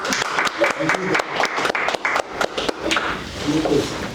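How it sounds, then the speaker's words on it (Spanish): A crowd claps steadily for several seconds, a dense patter of many hands with a few louder individual claps standing out. "un aplauso."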